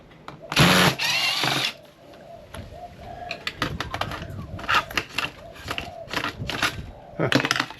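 Small screws from a power supply being taken apart for scrap fall and scatter after a loud rushing clatter, then bounce and tick in scattered bright metallic clicks and rattles close by.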